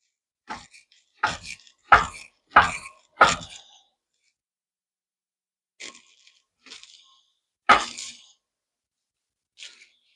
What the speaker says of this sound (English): I'm just going to come through and give it a little bit finer of a chop